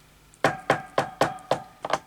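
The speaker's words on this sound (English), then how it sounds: "So about the knocking." Six sharp, close knocks on what sounds like a wooden surface come in an even rhythm, with the last one doubled. The room is otherwise quiet and no one speaks.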